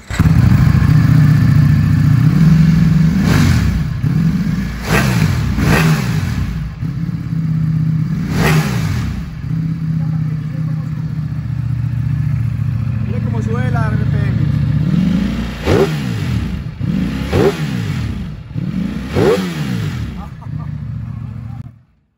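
A powerful superbike engine revs repeatedly in loud bursts, rising and falling several times with a pause in the middle, while people talk over it in Spanish.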